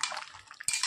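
A lid comes off a pot of simmering potato and elephant foot yam vegetarian curry with a brief metallic scrape, then a sharper clank of metal near the end, close and fairly quiet.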